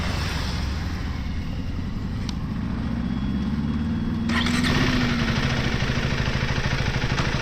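A KTM 390 Adventure motorcycle is switched on and its single-cylinder engine idles close by, a steady low hum that swells slightly partway through.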